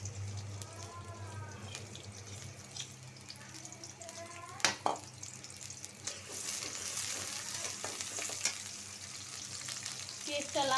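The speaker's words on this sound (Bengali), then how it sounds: "পেঁয়াজটা লাল হোক" Chopped onion fries in oil in a pan as the base for a home-style chicken and potato curry, with a constant soft sizzle, scattered clinks and stirring scrapes, and a faint background hum.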